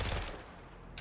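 Dense, rapid gunfire from the video game Forever Winter fills a single second, loud and crowded with overlapping shots and no pause.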